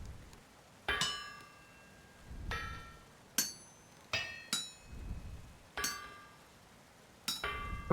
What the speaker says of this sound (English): It's my nearly broken hammer.